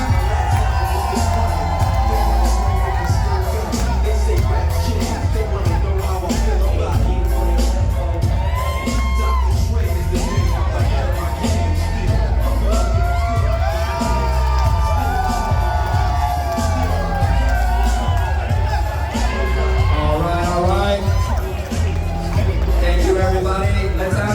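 Guests at a Iu Mien wedding reception cheer, whoop and shout for the wedding party, a loud, sustained crowd roar with bursts of yelling throughout and some voices heard in the mix.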